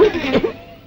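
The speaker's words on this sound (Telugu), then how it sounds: "ఎక్కడిది దగ్గు?" A man gives a short, close, throaty cough burst, followed by a brief pause and another rough cough at the end.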